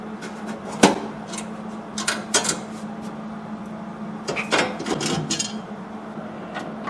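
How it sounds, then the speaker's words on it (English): A metal battery relocation bracket is tack-welded in an LS-swap car build, with several short, sharp crackling bursts, each under a second and separated by pauses, close by in a workshop. "I'm going to come in here with a welder and I'm going to tack that"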